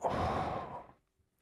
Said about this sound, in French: Alors, une respiration.